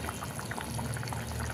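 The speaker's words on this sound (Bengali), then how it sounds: "তরকারিটা ফুটে গেছে" Hilsa fish curry, a no-onion oil-and-chili tel jhal, bubbles steadily in a pan, with a close, continuous simmering hiss and no voices.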